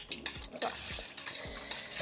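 Spatula strokes stir a pastry mixture in a pan, with a few rhythmic scrapes and light clinks, close but fairly quiet.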